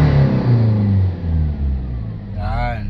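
Toyota HiAce 3.0 diesel engine with a damaged injector revving up toward redline, a loud close mid-pitched engine drone rising and falling, with someone talking over it.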